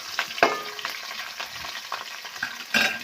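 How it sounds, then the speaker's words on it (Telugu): Onions and green chillies fry in hot oil with whole spices, giving a close, steady sizzle broken by stirring scrapes and small bursts of crackle. "ఇది మంచి కలర్ వచ్చేంత వరకు అయితే ఫ్రై చేసుకుందాం."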